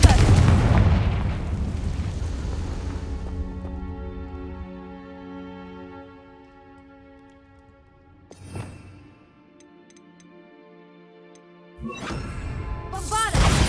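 Confringo fire spell blasts in the Hogwarts Legacy video game: a heavy booming burst at the start that decays into a long ringing tail, then a quieter thump midway and another strong blast at the end.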